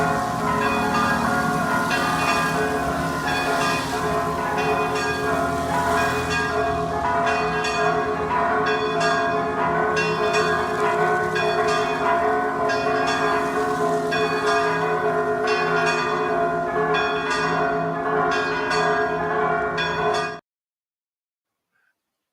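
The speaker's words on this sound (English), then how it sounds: "You got to hear the sound of the church bells." Church bells in Mexico peal loudly and continuously, overlapping strikes ringing out in a dense cascade for about twenty seconds before stopping abruptly into silence.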